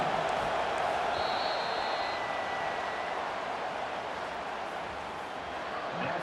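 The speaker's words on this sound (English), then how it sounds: "Listen to this crowd just shaking the girders of this place," A stadium crowd in the EA Sports College Football 25 video game roars steadily as a dense, constant wash of noise for the whole stretch, with no clear peaks.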